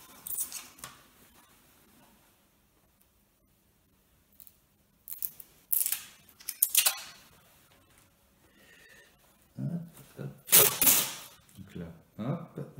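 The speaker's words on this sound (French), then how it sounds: "on découpe grossièrement pour faciliter la suite des opérations" A blade cuts roughly through foam board in short, scattered, scratchy rasps, loud and close, with long quiet gaps between them and a denser cluster of cuts near the end.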